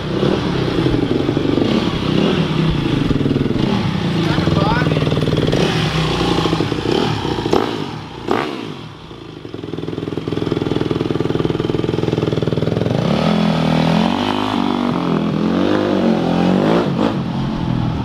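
A motorcycle engine revs hard and loud through most of the stretch during a wheelie, a steady roar with a brief dip midway before it climbs again, close by.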